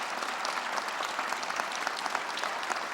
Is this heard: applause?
yes